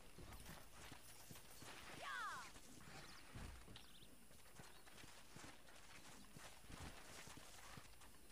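Horse hooves in Red Dead Redemption, a quiet clip-clop of steady hoofbeats across the whole stretch, faint and slightly distant, with a brief whinny-like sound early on.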